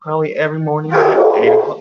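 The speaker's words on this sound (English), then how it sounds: "That's my dog" A pet dog at home makes a few close, loud whining barks, then a person keeps talking over it.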